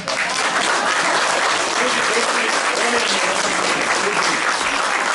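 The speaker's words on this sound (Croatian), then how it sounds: "aplauz. Dajte, molim vas." A folk culture society's performance ends in loud, sustained audience applause. The clapping is dense and steady and fills the whole stretch as a continuous wash of hands.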